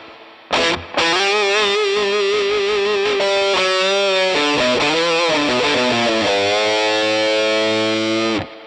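Overdriven electric guitar playing a melodic lead with bends through a HeadRush pedalboard amp, soaked in spring reverb, ending on a sustained note.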